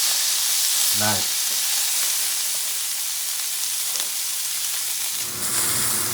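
Yak tenderloin sizzles in butter in a pan with a loud, steady frying hiss. A brief spoken word cuts in near the start.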